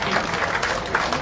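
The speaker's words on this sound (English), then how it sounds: "Can we give another round of applause to our two Deputy Presidents?" Applause from a crowd at a parliamentary press conference, a steady wash of clapping held at even loudness for a brief stretch.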